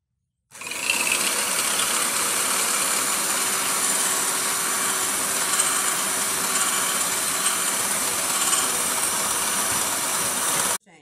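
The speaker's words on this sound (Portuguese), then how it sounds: "E vou estar batendo na batedeira," A handheld electric mixer whips three egg whites with a pinch of salt in a bowl, a steady loud whirring hum with a bright rattling edge that runs on without a break.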